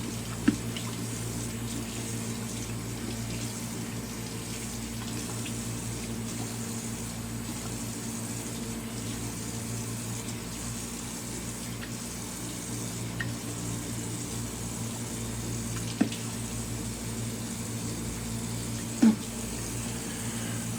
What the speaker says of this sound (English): rinse off cold water.